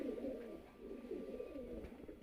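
Punjabi Malvai pigeons coo softly and continuously, their low throaty calls rolling on at a steady murmur with no talk over them.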